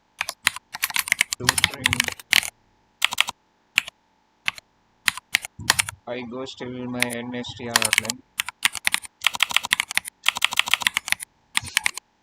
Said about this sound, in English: I'm typing four characters and I'm removing 4 characters.